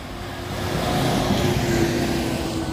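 Heavy traffic rolls along the Maharlika Andaya Highway in Lupi, Camarines Sur, with close passing vehicles making a steady engine rumble and road noise that swells and stays loud, and nobody speaks.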